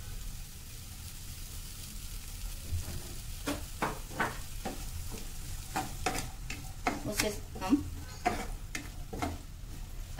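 Chopped ginger and onion sauté in a pan for Indian-style macaroni, a soft steady sizzle under a run of sharp spoon scrapes and taps as the mix is stirred, fairly quiet and close.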